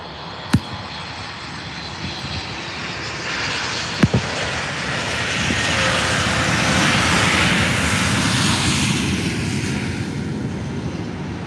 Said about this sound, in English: let's check out this Ryanair 737 landing in from Dublin